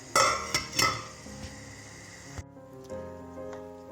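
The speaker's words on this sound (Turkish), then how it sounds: "Kapağını da kapatıyorum" A metal lid is set onto a pot of green beans left to boil, with a few sharp clanks and rattles up close, followed by a quieter lingering ring and faint rumble.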